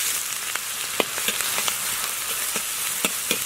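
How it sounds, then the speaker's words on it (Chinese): Chopped scallion, ginger and garlic dropped into hot oil in a wok, a steady loud sizzle with faint scraping stirs ticking through, no voices. "油后下入葱姜蒜末"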